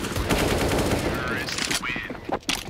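Pistol fire in a Counter-Strike esports match on the Vertigo map, heard as a dense patter of rapid gunshots and clicks under crowd and game noise, with a few sharper cracks near the end.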